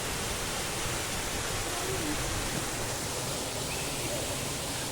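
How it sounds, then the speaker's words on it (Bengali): A waterfall at the Darjeeling rock garden, a dense continuous roar of rushing, splashing water filling the air evenly, with no breaks and a faint voice somewhere beneath it. "দেখো ওয়াটারফলসের জলটা দেখেছো?"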